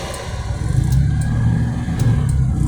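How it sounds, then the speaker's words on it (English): A 1986 Citroen Acadiane engine rumbles low and steady at idle, close by and fairly loud, with a slight rise and fall in its throb. "It's just that sound of that engine idling as it's waiting."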